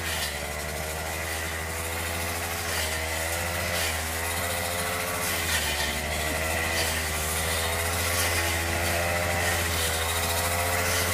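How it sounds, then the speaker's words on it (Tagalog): A grass cutter runs continuously in a rural field, its small engine giving a steady, loud, buzzing drone with a constant pitch and no pauses, heard up close and without speech. "First time lang yan nakahawak niyang grass cutter na yan."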